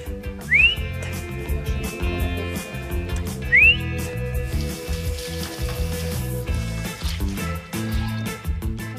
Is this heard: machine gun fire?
no